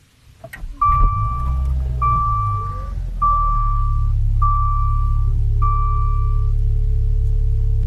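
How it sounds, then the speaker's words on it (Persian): Maserati Levante SUV engine starting: a short starter whir catches into a loud, steady low idle, while a series of five chime beeps repeats over it. "اگه موافقین من استارت رو بزنم"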